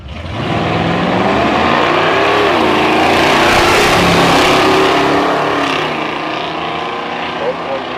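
A nostalgia drag racing car, a Sportsman-class entry, accelerates hard down the strip at an outdoor event, its loud sustained engine roar rising in pitch and filling the whole stretch before easing slightly near the end, with crowd and announcer sound in the background.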